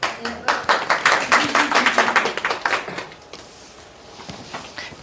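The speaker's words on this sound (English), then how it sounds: "Give yourself a round of applause, not me." A small group claps for a few seconds, a loose rhythmic patter of hands that thins out and fades into quiet room noise.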